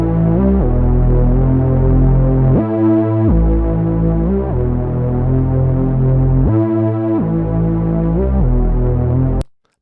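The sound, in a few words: synthesized Reese bass with a fifth, Afro House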